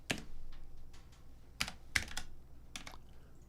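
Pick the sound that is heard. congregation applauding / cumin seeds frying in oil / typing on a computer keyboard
typing on a computer keyboard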